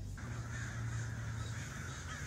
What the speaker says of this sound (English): So these crows are creepy.